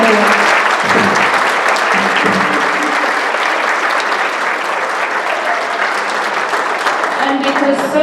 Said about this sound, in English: So let's give them another big round of applause.